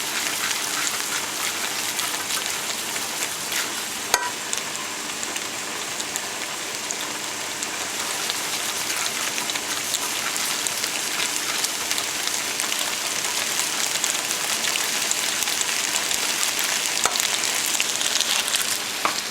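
Flour for a chicken-vegetable pie filling sizzles steadily in a hot pan while it is stirred, giving a continuous crackling hiss with occasional sharp ticks of the spoon. No one speaks.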